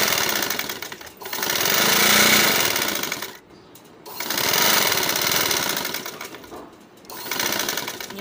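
A sewing machine stitches the hem of a small boy's kurta pajama in fast, loud whirring runs, broken by two short pauses between bursts.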